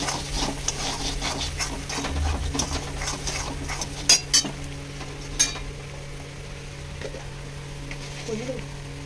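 Masala with coriander powder being stirred in a pan for chicken curry, with a soft continuous scraping and light sizzle, a few sharp metal clinks of the spoon against the pan standing out near the middle.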